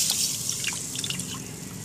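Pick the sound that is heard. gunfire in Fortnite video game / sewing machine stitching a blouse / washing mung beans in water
washing mung beans in water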